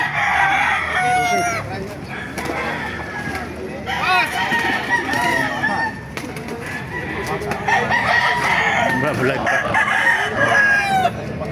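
Several roosters crow repeatedly, overlapping one another, with hens clucking and a person speaking briefly in the background, at a chicken market in Baliuag, Bulacan.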